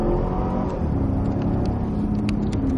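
A Cadillac CTS-V pulls hard on a race track, its engine note climbing steadily under throttle for a few seconds, loud and close with no talk.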